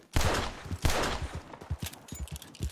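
Two loud, close gunshots ring out in Red Dead Redemption 2, fired up at the moon about a second apart, each followed by a rolling echo that fades into softer trailing rumbles and distant reports.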